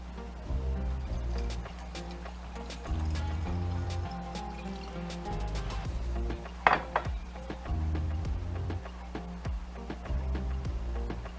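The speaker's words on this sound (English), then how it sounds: "Let's add our water." Water poured from a container into a bowl of Filipino vinegar dipping sauce made with soy sauce and garlic, giving a steady close trickle and fill sound with a brief clatter of dishware midway.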